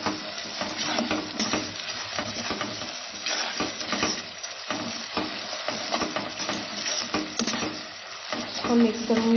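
Food frying in oil in a pan on a gas stove over medium flame, stirred continuously while making tandoori chicken biryani; a steady sizzle runs throughout with scraping stir strokes, and a voice speaks now and then.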